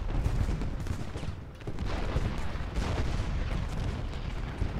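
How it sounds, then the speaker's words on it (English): Artillery fire in the American Civil War strategy game Ultimate General: Gettysburg, a dense continuous barrage of overlapping booms and crackling shots rolling on without a break. "Oh man, the artillery is just murdering these guys."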